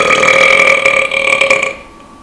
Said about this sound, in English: So much burping.